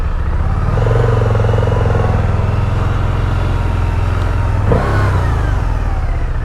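Motorcycle riding along a road in Ibaan, Batangas, with a loud close engine drone that rises and falls as it revs, plus wind rumble; no talking.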